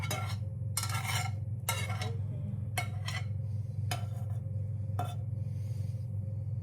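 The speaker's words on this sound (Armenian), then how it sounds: "Թողել եմ, որ վարդագունի ու այսպես լավ խառնում եմ" Fried onions are stirred in a pan with a utensil in repeated scraping strokes, about six of them, over a steady low sizzle.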